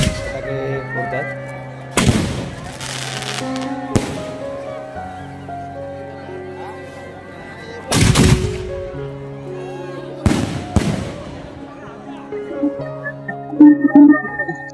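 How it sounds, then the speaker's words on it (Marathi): Firecrackers go off at a temple festival, sharp loud bursts arriving in clusters separated by pauses, over a continuous outdoor backdrop of crowd noise and festival music. "इकडे बघताय सर्व फटाके फोडतात"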